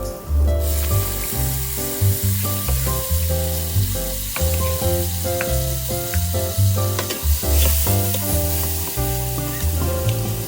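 Garlic and chili stir-fry in a pan for seafood spaghetti, giving a loud, close, constant sizzle with scraping stirs, with music running beneath it.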